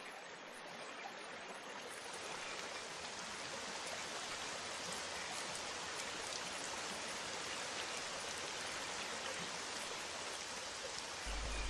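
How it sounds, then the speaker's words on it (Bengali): Steady rain falls in a dense, even hiss that continues unbroken and fairly soft throughout, with no voices. "আরে এই তো বৃষ্টি চলে এসেছে।"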